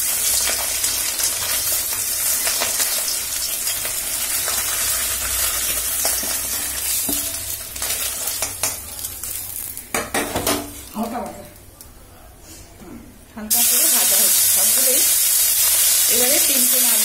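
Shrimp fry in a pan with a loud, continuous sizzle, metal utensils clinking and scraping against the pan, then a sharper, brighter burst of frying near the end.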